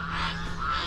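Geese honking on a farm in California, a short close burst of nasal honks with no voices.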